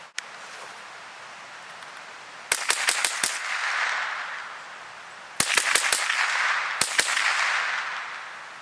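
A gun fired outdoors in a remote northern wilderness: two rapid volleys of loud, sharp cracks, five or so in each, ringing out over a steady rushing background.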